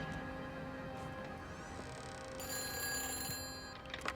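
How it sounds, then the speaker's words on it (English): A telephone rings insistently in Everybody's Gone to the Rapture, its steady bell tone sounding over a continuous hum of game ambience, with the ringing growing brighter partway through. "Phone's ringing."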